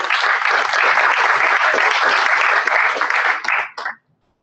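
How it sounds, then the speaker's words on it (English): Audience applause at a startup pitch event in Perth, a dense, steady wash of clapping that holds for about three and a half seconds before tapering off with a few last claps. "give yourself a round of applause."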